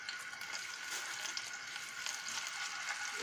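Pork skinless longganisa frying in vegetable oil, a steady close crackling sizzle with fine popping spatters, fairly quiet and unbroken by any voice.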